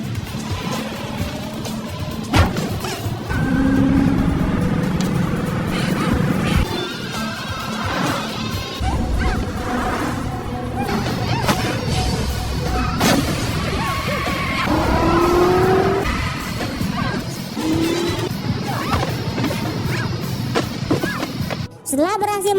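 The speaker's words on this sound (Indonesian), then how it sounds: "melarikan diri dengan mengendarai mobil dan kejar-kejaran di antara mereka pun tak terhindarkan" Car chase in a Hong Kong kung fu gangster action film, with engines roaring and tires squealing amid dense music and effects; voices are heard over the steady, loud mix.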